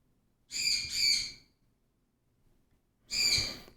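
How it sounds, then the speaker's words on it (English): Birds calling in the early morning outdoors: a loud double burst of harmonic hooting calls, a pause, then a single matching call, close and clear over near silence. "The birds are awake, apparently."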